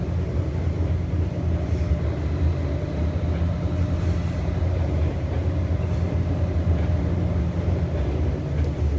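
An Adelaide Metro 3100 Series electric train rumbles steadily along with a constant low drone and mechanical hum, continuous and fairly loud, with no voices.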